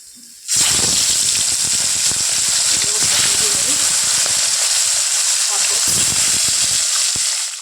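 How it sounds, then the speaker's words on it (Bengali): Koi fish dropped into hot oil burst into a loud, sustained frying hiss that starts abruptly and stays steady and close, crackling throughout for several seconds before easing at the end. "তো বাদবাকি মাছগুলো এখন এর মধ্যে দিয়ে দিই"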